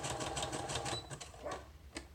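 A sewing machine stitches through a journaling card for a junk journal, its rapid mechanical chatter running steadily and fairly close, then pausing briefly and resuming in shorter bursts.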